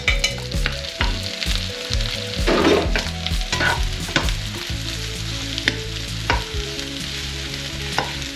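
Onion and mushrooms sauté in a frying pan with a steady close sizzle, broken by repeated stirring scrapes and clinks of a utensil against the pan.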